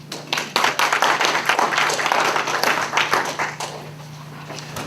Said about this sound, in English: So please applaud our next poet.